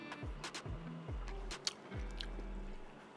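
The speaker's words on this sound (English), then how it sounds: "let's give it a little taste" Someone tastes a spoonful of savory braised pumpkin reduced to a thick glaze, chewing close and quietly with a few soft, moist crunches and squishy bites in an irregular rhythm.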